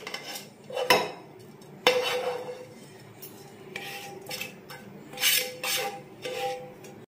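A spoon scraping and clacking against a bowl while stirring fried vegetables into wheat dosa batter, with irregular close knocks and soft scrapes and no talking.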